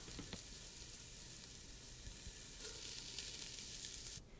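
Whole grain rice sautéing in a pan makes a faint, steady sizzle with occasional soft stirring ticks, quiet and close, ending abruptly.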